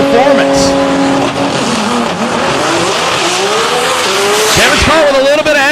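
A DCT 850 class drag racing car launches down the strip at a DCT World Cup event, its engine roaring loudly with tire squeal and rising revs as it hooks up and pulls away, while a commentator talks over it.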